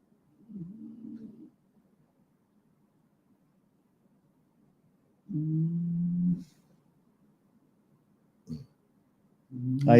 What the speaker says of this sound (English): Got the dog snoring over here.